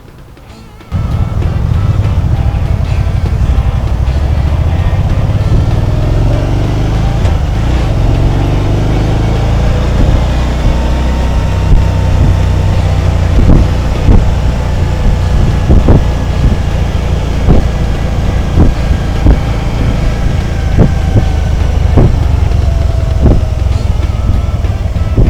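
A Can-Am Spyder RT-S three-wheel motorcycle on a test ride, with the steady engine drone and heavy wind rush heard from the rider's seat, continuous and loud after a brief quiet start.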